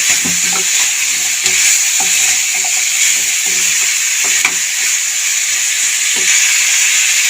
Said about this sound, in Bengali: একটু নেড়ে ছেড়ে এগুলো ভেজে নেবো।